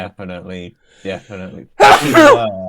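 A loud, close sneeze bursts out right after a man's brief muttered speech and trails off in a noisy rush.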